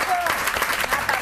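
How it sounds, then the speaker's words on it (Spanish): Studio audience applauding on a Spanish television game show, a brief, steady burst of clapping heard up close and filling the whole moment. "¡Un aplauso!"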